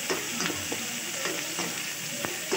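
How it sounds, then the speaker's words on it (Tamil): Onions fry in hot oil with a dense continuous sizzle and occasional stirring scrapes and clicks, steady and close, no one speaking. "எண்ணெய் வந்து நல்லா காஞ்சிருச்சு வெங்காயத்தை போட்டுக்கலாம்"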